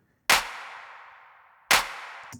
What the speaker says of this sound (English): these are big claps